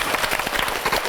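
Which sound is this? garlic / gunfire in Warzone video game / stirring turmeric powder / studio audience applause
studio audience applause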